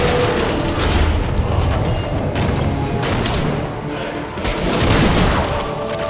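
A fort being destroyed in Heroes of the Storm on the Haunted Mines map, with dense, loud game explosions, booms and crashing mechanisms in continuous bursts, mixed with some in-game voice.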